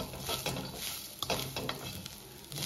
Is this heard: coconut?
yes